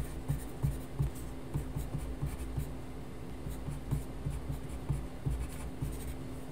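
A graphite pencil cross-hatches on paper in quick repeated strokes, a close, rhythmic scratching that keeps a steady back-and-forth beat, with no voices.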